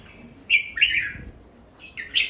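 Red-whiskered bulbul singing with a harsh, bell-like voice: several short, bright, close chirping phrases separated by brief pauses against a quiet background.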